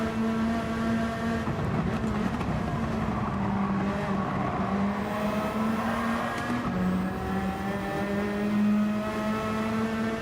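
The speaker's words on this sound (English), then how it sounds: "Old Supra overtakes new Supra." Toyota Supra race cars overtaking in Gran Turismo 7, a steady high-revving engine drone with gear-shift dips and a second engine tone layered in, close and continuous without talk.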